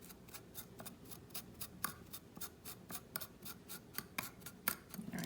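Scissors snip repeatedly through cotton wick for a Diesel RTA vape atomizer, a quick series of sharp, close cutting clicks in an irregular rhythm against a quiet background.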